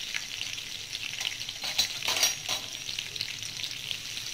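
Red chili, curry leaves and grated ginger sizzle gently in hot oil, a steady close frying hiss with a few stirring scrapes and no talk.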